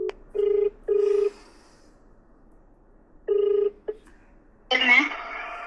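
A telephone busy signal: short, evenly pulsed electronic tone bursts from a dialed call that cannot connect, two close together, then another after a pause, before a voice speaks.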